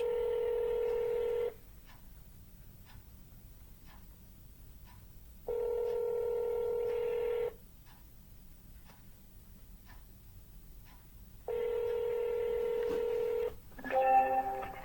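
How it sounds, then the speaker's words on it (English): Telephone keypad tones as a number is dialed for a real estate cold call: three sustained multi-tone beeps with pauses between them, clear and alone, ending in a brief different tone burst. "I'm going to call that number back because I know it was the right number."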